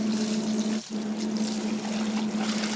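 Dyed cotton webbing being rinsed in water, a steady running, trickling wash with a constant hum beneath it and a brief dip partway through.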